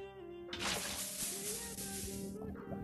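Water poured onto a portal in Minecraft, a steady splashing gush that rises abruptly, holds for about two seconds over game music, then cuts off.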